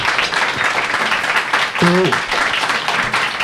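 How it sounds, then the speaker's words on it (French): An audience applauds after a poetry and ecology round-table discussion, the dense clapping running throughout while a voice briefly speaks over it near the middle. "je vous propose d'applaudir chaleureusement"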